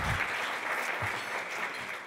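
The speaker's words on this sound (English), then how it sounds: "big round of applause to all of them" An audience at the Breakfast of Humanitarians 2023 gives sustained applause, a dense, even wash of many hands clapping close by.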